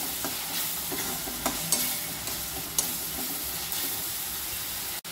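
Ground masala paste for prawn curry roasting and sizzling in a pan: a steady bright hiss of frying with occasional soft stirring scrapes and small pops, close up, ending in a sharp clack.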